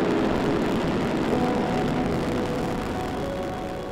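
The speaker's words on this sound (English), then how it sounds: "liftoff of the United Launch Alliance Delta IV Heavy rocket" Delta IV Heavy rocket lifting off, its RS-68A engines giving a steady, loud, dense roar that holds at a constant level and fades slightly toward the end, with no voices.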